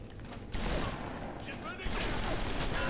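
Gunfire in the video game Bioshock comes as dense bursts of shots and mechanical clatter, loud and continuous, with a voice talking over it.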